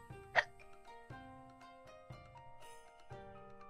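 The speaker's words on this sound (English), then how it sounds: "sorry, I have hiccups" A single sharp hiccup pops out early, loud and close, over soft steady background music with a few quieter clicks.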